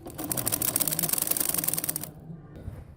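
A sewing machine runs in a fast, steady mechanical chatter while stitching lace onto a kurti, holding up close and loud for about two seconds before stopping with a few faint clicks.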